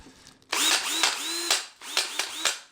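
Ryobi 18 volt cordless drill spinning a hand-held garden auger: several short bursts of whirring motor, each rising and cutting off, with brief pauses between, close and fairly loud.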